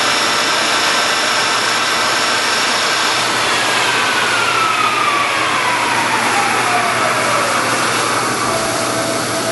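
A pre-owned American lathe, 21.5 by 102 inches, spins at 1500 RPM, giving a loud, steady mechanical whine and rush. A clear tone slides gradually lower partway through, and no one talks.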